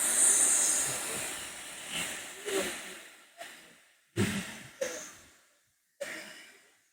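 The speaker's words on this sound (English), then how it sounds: "Second one seems to be blowing off steam." A steam train vents steam through its release valve, a loud opening hiss that fades, followed by several sharp separate bursts of hissing with quiet gaps between them.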